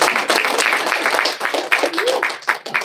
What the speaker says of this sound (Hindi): इनको ताली बजाओ एक बार ताकि 5 मिनट ज्यादा बोल सके